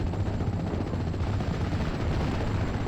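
Mortar fire in the WWII strategy game Steel Division: Normandy 44 makes a dense, continuous rumble of booming explosions with heavy low-end weight and no talking.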